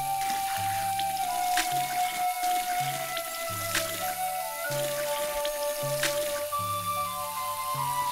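Water splashes and drips steadily from a running tap while a face is washed three times for ablution, with a soft background melody playing throughout.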